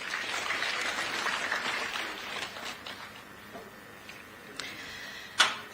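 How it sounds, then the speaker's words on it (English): An audience at a formal ceremony in Muchinga Province claps for a few seconds. The applause fades away midway, leaving near-quiet with a few faint ticks and one sharp click near the end. "Let's give him a round of applause."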